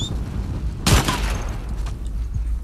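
Gunfire in The Last of Us Part 2 video game: one loud burst of shots lands near the one-second mark over a steady game background, followed by fainter scattered reports.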